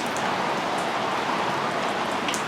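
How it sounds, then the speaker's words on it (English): Steady rain falls outdoors beside a house under construction, a dense continuous hiss of drops with occasional louder nearby drips, no voices. "it's been raining for a little over an hour now, and I've been out here in it"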